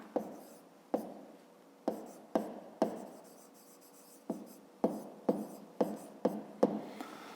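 Someone writes an answer on paper during a fifth-grade maths exercise, with a run of sharp, separate pen taps and strokes, a dozen or so spaced irregularly, close and fairly quiet.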